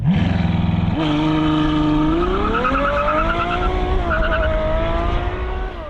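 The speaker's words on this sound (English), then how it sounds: "This exhaust, I cannot wait for you to hear this exhaust." A Novitec-tuned Ferrari 812 Superfast N-Largo's V12 exhaust roars loud and close, the engine note rising and sweeping upward in pitch as it revs, with no talking.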